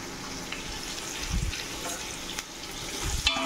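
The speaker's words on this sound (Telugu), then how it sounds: "కొద్దిగా ఆనియన్స్ ఫ్రై అయినాయి." Onions with ginger-garlic paste fry in a pan for pulao, giving a steady close sizzle broken by a few scraping stirs, with no one talking.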